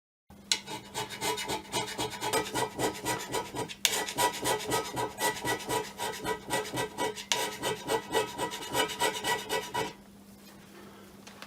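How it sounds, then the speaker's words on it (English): Hand scraper worked with two hands across a vertical cast iron surface of a Myford ML7 lathe, giving a close, rhythmic rasping of short repeated strokes with a couple of brief pauses, then stopping. "I've adopted this style of holding the scraper with 2 hands"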